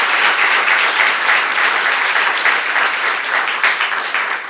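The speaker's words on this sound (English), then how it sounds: "So let's go ahead and give her a round of applause." An audience applauds a speaker being honored as a college's first African-American PhD graduate, a dense, steady wash of many hands clapping at close range that holds for the whole stretch with little variation.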